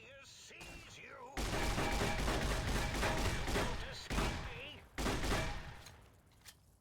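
Shotgun blasts in Fallout: New Vegas, booming in a few heavy bursts with abrupt starts and short gaps between them, loud and close.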